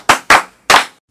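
Schoolchildren in a classroom clap for themselves: four loud, sharp, close group claps, spaced unevenly and ringing out alone with no voices.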